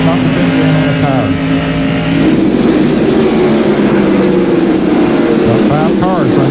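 Stock cars racing at Bristol in a NASCAR race, about five running close together, their loud engines roaring and droning steadily with pitch shifts as they pass, under a commentator's voice.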